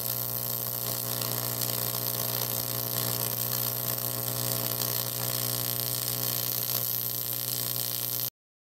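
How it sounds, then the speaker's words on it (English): A TIG welder closes a crack in an engine head with a steady, loud electrical hum and buzz that holds unbroken for about eight seconds, then cuts off abruptly. "I'm gonna carefully TIG weld this gap closed."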